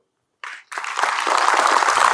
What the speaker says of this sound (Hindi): एक बार एक पल के लिए अपने पेरेंट्स का नाम अपने मन में लो और जोर से उनके लिए ताली बजाओ